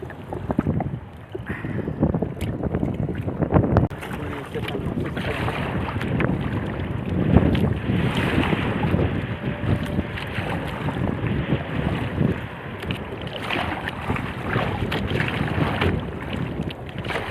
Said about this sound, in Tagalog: Medyo malakas na yung hangin. Mahirapan tayo pagsagwan.